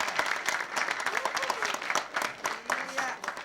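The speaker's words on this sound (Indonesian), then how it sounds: "Kita beri tepuk tangan penonton." Studio audience applauding on an Indonesian comedy TV show, a steady dense patter of clapping from a crowd, moderately loud and sustained throughout, with a voice faintly over it.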